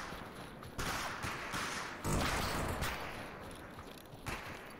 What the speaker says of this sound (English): It's definitely shooting at us now.